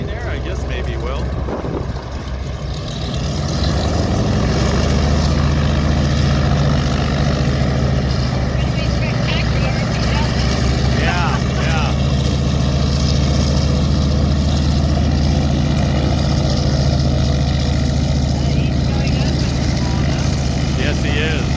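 A propeller plane taxis past another parked plane at Felts Field airfield, its steady engine drone loud and continuous throughout, with people talking over it.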